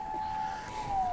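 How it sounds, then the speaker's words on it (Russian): An ambulance siren wails faintly in the distance, a thin steady tone that slowly drops in pitch, over quiet background noise. "уже слышно, что скорая едет."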